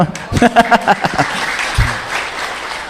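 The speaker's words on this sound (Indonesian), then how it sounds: "Nggak usah tepuk tangan karena belum selesai." Brief burst of audience clapping and cheering with some laughter, fading after a second or two as the crowd settles.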